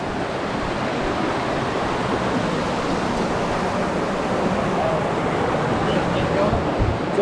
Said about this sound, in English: We've made it to the third waterfall here.